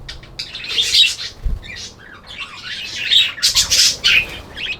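Budgies in an outdoor aviary during hot summer weather chirp and squawk continuously while wings flap in quick bursts, a lively, close chorus with no talking.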